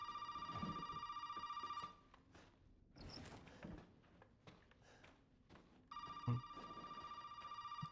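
A telephone rings inside a house in the video game Resident Evil 7, two long electronic ringing bursts with a quiet gap between them, clear and close, with faint thuds and room noise but no talk.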